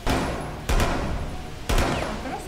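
Gunfire from the video game Rainbow Six Siege: three loud, sharp shots spaced about a second apart, each leaving a short ringing tail, with no talk over them.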